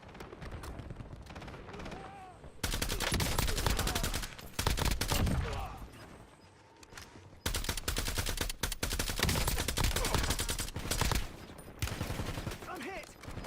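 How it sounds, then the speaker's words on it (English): Rapid bursts of video game gunfire in a shooter match, loud clustered volleys and single shots crackling through most of the clip, with short quieter gaps and game voice callouts underneath. "Incoming shots! Get ready."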